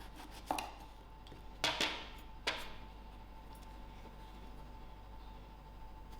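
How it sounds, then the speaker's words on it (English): Brinjal being cut into slices with a knife, a few distinct crisp chopping strokes close by, two of them in quick succession, followed by quiet. "So this is how I cut my brinjal."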